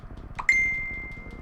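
A phone gives a single sharp ding that rings out and fades slowly over a quiet, low game-music background, with no voices.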